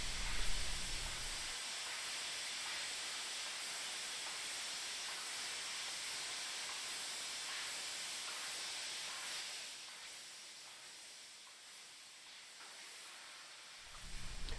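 A fiber laser cuts metal using compressed air straight from a compressor, giving a steady loud hiss that runs for most of fifteen seconds and eases slightly toward the end.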